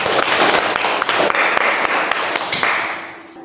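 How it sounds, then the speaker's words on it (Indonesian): A small group, likely a class, applauds Rani with a burst of lively, uneven clapping, close and sharp, that continues for a few seconds before thinning out and fading at the end. "Kasih aplaus untuk Rani"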